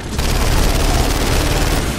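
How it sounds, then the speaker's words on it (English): Dense, loud, sustained automatic gunfire from the video game Gears of War 2, a rapid unbroken burst of shots filling the whole moment with no talk over it. "I'm just shooting the edge of the ground."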